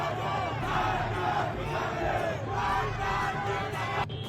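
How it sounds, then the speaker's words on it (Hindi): Dense crowd of anti-government protesters chanting slogans in the streets of Tehran, Iran, a loud continuous roar of many voices with swelling rhythmic surges, filling the whole stretch before a brief change at the end. "सड़कें जाम हैं और प्रदर्शनकारी ईरान की कठमुल्ला सरकार के विरोध में नारे लगा रही हैं।"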